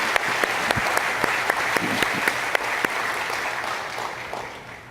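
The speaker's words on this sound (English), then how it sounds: "Please join me in a round of applause for our directors." An audience at a corporate annual shareholder meeting applauds steadily, a dense wash of clapping that holds and then fades toward the end.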